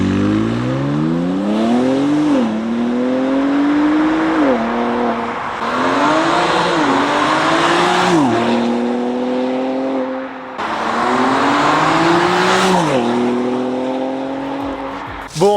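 A BMW X4 M Competition roars past outside, its loud engine revving through repeated rising gear pulls with sharp shifts, the exhaust note staying close and dominant throughout.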